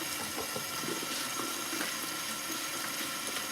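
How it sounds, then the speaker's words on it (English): Tap water runs steadily into a bowl of pre-washed salad greens at a kitchen sink, a continuous close splashing rush with small clatters throughout. "I'm just gonna take you guys over here with me to the sink, and we're gonna get this salad washed."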